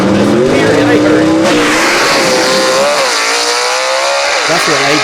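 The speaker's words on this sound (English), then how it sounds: "if you want to see just how fast the car leaves the start line, watch the hand move" A vintage gasser drag race car launches hard off the start line at London Dragway in Kentucky, its engine roaring loud and close, the pitch climbing and wavering as it pulls away.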